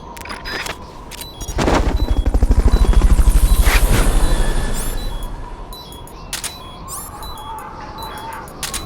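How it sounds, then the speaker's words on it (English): Helicopter in a video game: a rhythmic rotor thumping swells up, peaks and fades away over several seconds, framed by sharp clicks and snaps. "Fulton recovery helicopter is complete."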